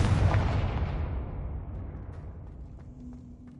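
A Confringo spell blast explodes in a Hogwarts video game, a loud boom that opens the clip and rolls off into a long, fading rumble.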